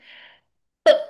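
After a faint hiss and a short silence, a single sharp sneeze bursts out close up and fades quickly.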